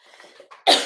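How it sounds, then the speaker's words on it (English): A person gives a single sharp, close cough after a moment of soft throaty breathing. "I can't quit coughing, you guys."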